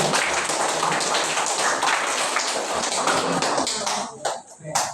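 A group of teachers claps in a classroom during an academic coaching session: dense, continuous hand clapping mixed with taps and shuffling that thins out and breaks into scattered claps near the end.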